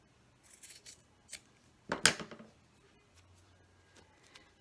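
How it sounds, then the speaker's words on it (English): Scissors cutting a small piece of material for a hide-a-box book journal: one crisp, close snip stands out amid quiet rustling and handling noise, with no talking. "You just have to cut it."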